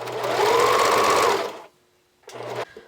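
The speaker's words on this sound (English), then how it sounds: "I'm using a zigzag stitch. I'm just going to anchor it on." A sewing machine runs a zigzag stitch to anchor elastic onto bralette fabric, a close steady whir that stops briefly, then restarts in a shorter burst.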